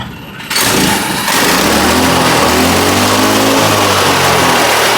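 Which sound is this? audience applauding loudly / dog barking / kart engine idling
kart engine idling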